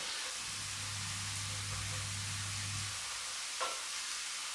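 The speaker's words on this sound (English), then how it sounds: "you need to cook the mushrooms as far as you want" Mushrooms frying in a pan for a risotto, a steady low sizzle with a faint hum throughout, no voices, ending with a small clink near the close.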